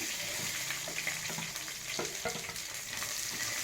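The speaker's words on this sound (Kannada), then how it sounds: "ಈರುಳ್ಳಿ ಹಾಕೊಂಡಿದ್ದೀನಿ ಈರುಳ್ಳಿ ಸ್ವಲ್ಪ ಫ್ರೈ ಆಗಲಿ" Onions with chopped green chillies fry in a pan for a potato roast, giving a steady close-up sizzle with light crackles and occasional stirring scrapes and no talk.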